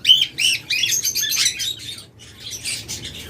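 Cockatiels, including grey cockatiels, and lovebirds chirp close by in a cage setting, with a rapid series of sharp, bright tweets and squawks, a brief pause, then more chattering calls.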